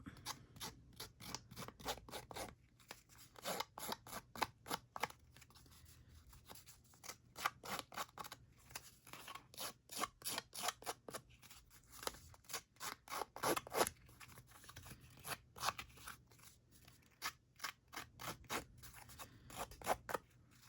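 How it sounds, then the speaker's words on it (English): Repeated crisp scissor snips and rasping cuts roughing up paper edges for a junk journal, close up, in quick irregular bursts with brief pauses, no talking. "I think I'm gonna take my scissors and kind of rough up these edges just a little."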